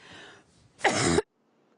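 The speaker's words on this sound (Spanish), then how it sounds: "A ver si me tapan un poquito y puedo toser." One sharp cough sounds close up after a faint breathy noise, followed by silence.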